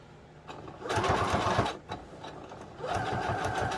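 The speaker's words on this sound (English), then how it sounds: "I'm just going to pop it into your machine, center it on the line, and sew." Sewing machine stitching fabric along a marked line, running in two fast, even bursts of close mechanical whirring with a short pause between them.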